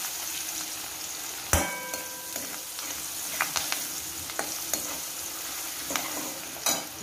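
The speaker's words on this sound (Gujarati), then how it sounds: "એની અંદર ડુંગળી નાખી ને આ ડુંગળી આપણે શેકી લઈશું" Onion frying with asafoetida in a pan for upma: a steady bright sizzle with a few sharp stirring clicks and scrapes, close up, no voices.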